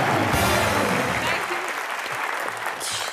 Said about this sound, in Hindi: एक बार जोरदार तालियां दीपिका पादुकोण के लिए।